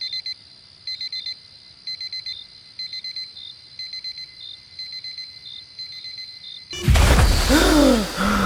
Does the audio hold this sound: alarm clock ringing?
yes